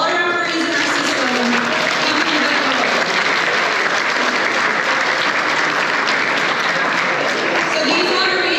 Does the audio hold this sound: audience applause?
yes